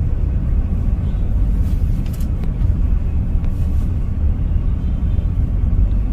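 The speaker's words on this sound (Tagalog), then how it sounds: "Ayan o, traffic." Heavy road traffic on a busy Manila highway, a loud, continuous low rumble of car engines and tires from inside a vehicle, steady throughout with no talk.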